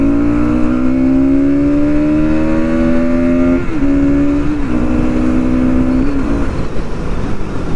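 Bajaj Pulsar NS motorcycle engine revved on the throttle, a loud close-up rising whine with pitch climbing, briefly dipping and climbing again before settling back to idle.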